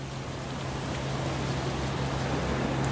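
Steady, rushing wind at the waterside during sea fishing, a constant broadband roar with a low hum underneath, loud and unbroken throughout.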